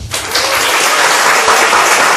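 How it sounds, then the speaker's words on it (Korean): A church congregation bursts into loud applause during a Sunday worship service, close dense clapping that starts abruptly and holds steady. "박수 한번 주세요."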